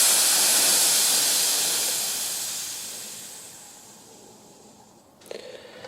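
A Fiat 500 brake line is depressurised, giving a loud, close hiss that slowly fades over several seconds before a short click and a brief burst of noise.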